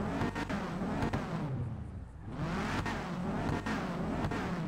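Sultan RS car engine in GTA 5 droning steadily and loudly, with a brief dip as it eases off before surging again, sounding close and continuous.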